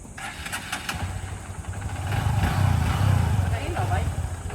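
A Honda CRF 150L motorcycle engine running, a chugging mid-range putter that swells louder midway, close by, with a person talking over it.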